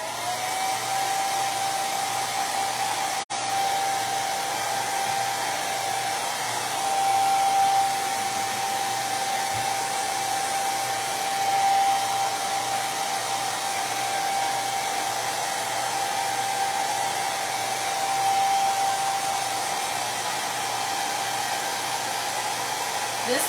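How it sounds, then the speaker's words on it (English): Blow dryer drying paint on a vintage ceramic-style Christmas tree, a continuous close whooshing airflow with a steady whine running for over twenty seconds, broken only by a brief click. "I'm going to touch this with the blow dryer."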